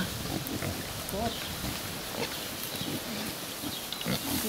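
Pigs grunt and oink repeatedly while being fed outdoors, short low snorts scattered over a steady noisy background, with a person talking now and then.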